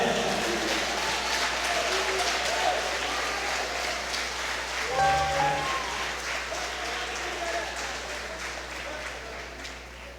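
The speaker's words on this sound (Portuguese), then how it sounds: "Se ela acreditar nessa palavra, ela vai aplaudir a Jesus de Nazaré." A church congregation applauds with sustained, dense clapping that fills the room, fading slightly toward the end.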